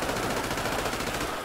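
Rapid automatic gunfire in the video game GTA V Online, a short, loud, evenly pulsing burst of machine-gun shots with no voices.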